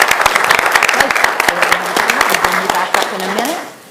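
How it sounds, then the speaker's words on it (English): Applause at a city council meeting, dense clapping that is loud and steady before tapering off at the end, with a voice speaking over it. "let's give Liam another round of applause"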